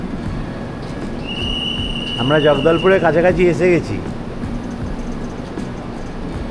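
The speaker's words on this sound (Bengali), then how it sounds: "ট্রেনটা প্ল্যাটফর্মে দাঁড়াচ্ছে আর সঙ্গে সঙ্গে ছেড়ে দিচ্ছে" A train from Araku with a Vistadome coach pulls into a platform near Jagdalpur. Its low, steady rumble carries throughout, with a faint high squeal, while a nearby voice talks over it for a few seconds.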